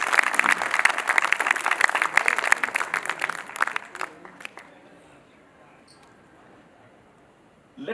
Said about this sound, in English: So may I request a round of applause for all these wonderful singers.